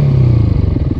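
A 2018 Beta RR 125 motorcycle engine catching as it starts, a loud close rumbling clatter with rapid uneven pulses filling the whole second, no voices over it.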